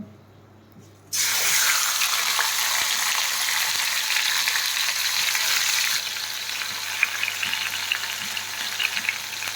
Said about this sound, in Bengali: যেহেতু তেলটা গরম হয়ে গেছে আমি ম্যারিনেট করা মাংসটাও এর মধ্যে দিয়ে দেব আস্তে আস্তে